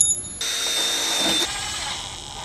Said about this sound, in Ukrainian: Дирочку просверлю і туди буду засверлювати сам шуруп.